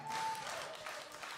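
Applause for a gospel workshop choir from Mszana Dolna, a steady wash of clapping from an audience filling the room at a concert, continuous and fairly even throughout.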